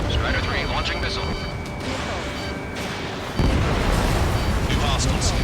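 Missile launches and explosions in the video game Ace Combat 7 during a helicopter mission over a town: a sustained roar of firing and blasts, with a sharp louder burst near the end, mixed with game tones.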